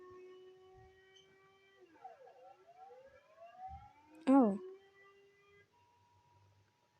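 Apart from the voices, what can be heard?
EAS emergency alert alarm siren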